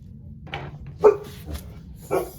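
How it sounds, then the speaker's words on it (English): A small dog barks a few times, short sharp yaps spaced out against a quiet room. "sorry. Excuse my dog."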